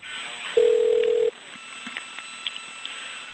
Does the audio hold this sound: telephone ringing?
yes